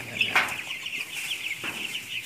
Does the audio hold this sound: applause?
no